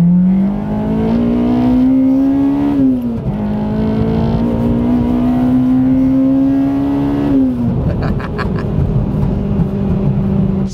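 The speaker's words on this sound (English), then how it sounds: "Let's do a cheeky second gear pull here." A Honda Civic Type R EP3 engine pulls hard in second gear from inside the cabin, its loud, steady rising whine climbing through two long sweeps with a brief dip at a shift, then dropping into a rougher, rattly note.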